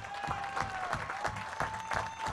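Audience at a conference applauding the president, steady rhythmic clapping from a room full of people, moderately distant and even in level.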